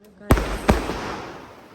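Firecrackers burst at a wedding celebration, two sharp, loud bangs about half a second apart, each trailing off into a crackling fade.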